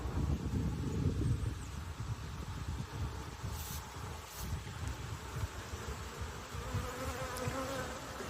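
Honey bees buzz steadily around an open hive during an inspection of capped brood frames, a dense, continuous drone close by with a faint rustle underneath and no talking.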